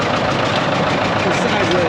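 A big 1959 John Deere tractor with a 68-horsepower engine runs steadily nearby at a gas-up tractor show, its loud, continuous engine rumble mixed with crowd noise and voices.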